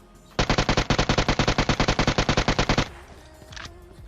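UMP submachine gun in PUBG Mobile firing one long sustained burst of about twenty rapid, evenly spaced, loud shots, then stopping abruptly, followed by quieter game sounds.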